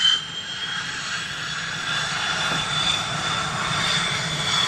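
An F-22 Raptor and an F-15 fighter jet fly together in formation. Their engines give a steady, sustained roar with a high whine on top, fairly distant and swelling slightly over time.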